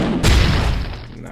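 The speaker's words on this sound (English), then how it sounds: "I've collected my weapon, so that's pretty cool. And if I fire it," A single weapon shot fires in a self-made retro boomer-shooter FPS game, a sudden booming blast that hits close and loud, then decays over about a second.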